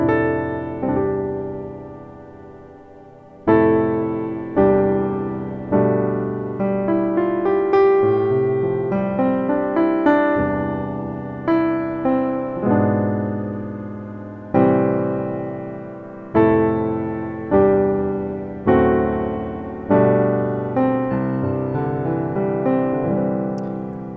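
Solo piano plays a slow introduction of rich gospel chords, each struck firmly and left to ring before shifting to the next, with no voices.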